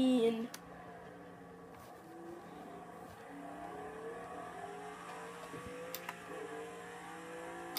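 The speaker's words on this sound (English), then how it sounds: "God, this car sounds mean." A race car in Project Cars 2 at Spa drones on as a low, steady engine note with shifting harmonics, quiet and continuous throughout.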